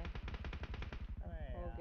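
Rapid automatic gunfire in the mobile shooter BGMI, a dense, close burst of about a dozen shots in quick succession, followed by a brief voice.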